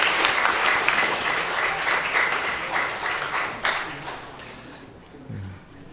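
A church congregation at a Sunday founding-anniversary service gives warm, sustained applause that thins out and fades toward the end, with faint voices underneath.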